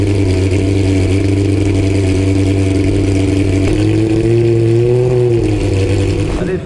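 A Cup race car engine at a race start on a damp track, a loud sustained drone that holds steady then rises and wavers as the revs climb, close and continuous with no voices.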